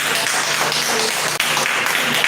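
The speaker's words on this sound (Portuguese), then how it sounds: "Você pode aplaudir Jesus?" A church congregation at a worship service applauding, a brief, dense wash of clapping and crowd noise heard up close and continuing steadily throughout.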